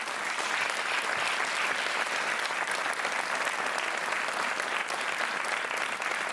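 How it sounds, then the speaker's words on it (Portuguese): Studio audience applause on the TV quiz show Joker, steady and dense from start to finish with no pauses or talking. "há um aplauso merecidíssimo para a Maria"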